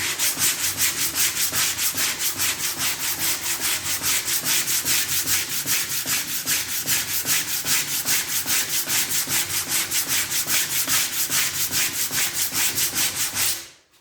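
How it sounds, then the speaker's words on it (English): A half-speed sander works putty on the fender of a VW Beetle trailer, giving a loud, steady, rhythmic rasping stroke after stroke, close up and alone, before stopping abruptly at the end. "This is the value of using a half-speed sander."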